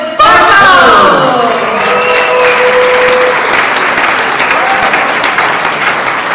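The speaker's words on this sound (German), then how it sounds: "wer jetzt kommt mit einem riesigen und tobenden Applaus hier auf der Genius Forum Bühne" Huge, roaring applause from a live audience greeting a speaker on the Genius Forum stage, dense, loud and sustained clapping with scattered cheers and whoops throughout, while a musical intro tone briefly rings out early on.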